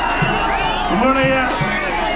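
Cheering from a dense crowd at a political rally in Palladam, a continuous roar of voices with occasional louder shouts rising above it, steady and fairly loud throughout.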